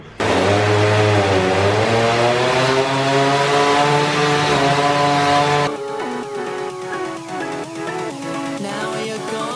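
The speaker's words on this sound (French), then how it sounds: "En attendant, il fait chauffer la tronçonneuse dehors." A chainsaw engine warming up outdoors drones loudly and steadily, its pitch wavering slightly, then cuts abruptly to a quieter, uneven mechanical rumble.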